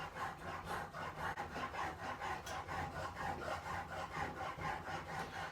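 A chisel is rubbed back and forth across a diamond sharpening plate with even fingertip pressure, a steady rhythmic scraping of repeated strokes, close and fairly quiet, with no talk.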